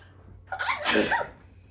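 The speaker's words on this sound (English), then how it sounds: "Sneezes." A single sneeze with a sharp inhale building into a loud burst, close by, then a quiet breath afterward.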